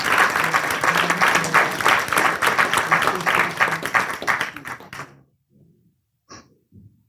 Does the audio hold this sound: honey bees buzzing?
no